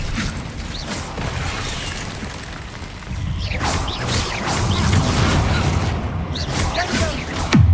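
Confringo blasting spells going off in the video game Hogwarts Legacy, loud booming bursts and crashing impacts over a busy mechanical game soundscape, with a voice casting spells.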